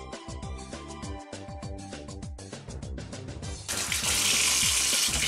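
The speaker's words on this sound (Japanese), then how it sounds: "次はですね、この殻を剥いたエビを、なんか水洗いとかして" Peeled shrimp rinsed under a running kitchen faucet, splashing and clinking close up at first, then a loud steady gush of tap water filling the last seconds.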